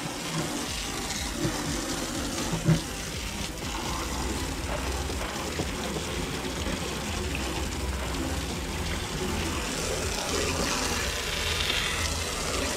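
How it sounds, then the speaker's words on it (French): Water running and splashing steadily across a teak boat deck during a rinse, a broad continuous wash that stays even and fairly close for the whole stretch, with no voices. "Faut bien laver avec grande eau pour enlever l'excédent de sel d'oseille."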